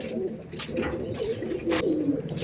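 Madrasi pigeons, including Rasu-line and Tiger-line birds, coo in a short burst of low, rolling calls close by, with faint background noise.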